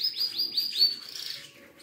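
A red-and-black crested bird begins singing: a quick series of bright, high chirps repeating about every fifth of a second, then a sustained sweeping note, loud and close with no other sounds.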